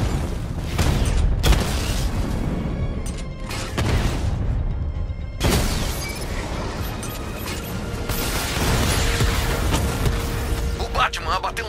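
A destroyed drone in the Batman Arkham Knight video game bursts in several heavy booming blasts among mechanical clatter and creaks, with people talking in between the explosions.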